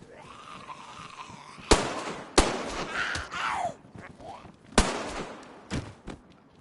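Sharp gunshots from DayZ ring out in a roleplay scene, three loud cracks spaced a second or two apart with a couple of softer ones, amid groans and shuffling of approaching figures.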